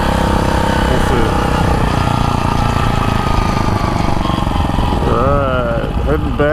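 A 49cc motorized bicycle motor drones steadily and loudly throughout, close up, with a voice speaking over it near the end.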